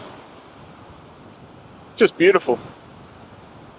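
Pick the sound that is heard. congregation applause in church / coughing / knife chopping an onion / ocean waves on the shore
ocean waves on the shore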